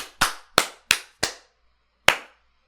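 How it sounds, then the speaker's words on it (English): Single person's hand claps for syncing a podcast recording: four sharp, close claps in quick even rhythm, a pause, then one final clap, each ringing briefly in a quiet room. "So I guess we can clap."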